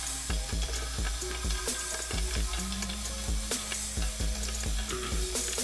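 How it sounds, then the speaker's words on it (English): Minced onions sauté in a hot pan, sizzling steadily up close with frequent sharp clinks and scrapes of stirring against the pan, no talking. "we're going to add some onions, some minced onions. And we're going to saute these down"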